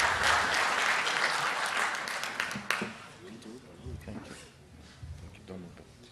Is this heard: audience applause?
yes